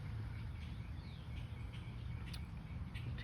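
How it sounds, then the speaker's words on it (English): Backyard birds in Naples, Florida call faintly in the distance, with scattered brief chirps and tweets over a quiet low background hum, no voices present. "noisy birds"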